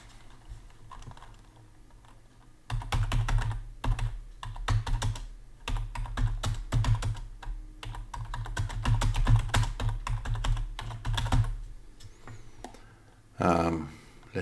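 Fingers type on a computer keyboard in quick, irregular bursts of clicking keystrokes that last about ten seconds after a quiet start, with a short pause before the final few taps.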